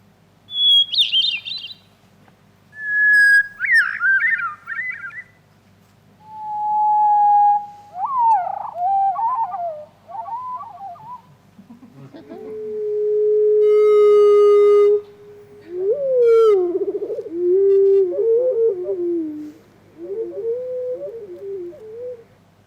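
A bird's song of clear whistled notes and chirps, first quick, then repeated at a slowed, deeper pitch so each phrase stretches out; no voices.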